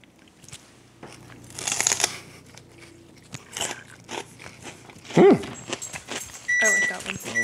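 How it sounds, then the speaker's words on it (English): Dehydrated honey crickets crunch sharply between the teeth in a few distinct bites and chews, close and crisp, interspersed with quiet mouth sounds and brief talk. "They just all fall apart in your mouth, like just the cricket. They're just crunchy."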